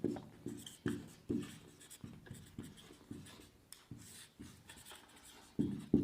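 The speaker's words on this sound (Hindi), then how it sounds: "इसकी परिभाषा लिखते हैं एक बार, उसके बाद में इसको क्लियर करते हैं।" Hand-writing a math definition on a board or page, a series of short scratchy strokes in uneven rhythm, close and fairly quiet, with no talking.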